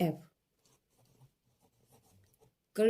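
Marker or chalk writing on a board during a vector calculus lesson, soft scattered scratching strokes in a quiet pause, framed by brief bits of a voice at the start and end.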